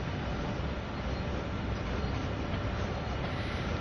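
Train Sim World 2 locomotive on the Sand Patch grade: a steady, broad mechanical rumble and hiss that holds at even loudness throughout, with no voices over it.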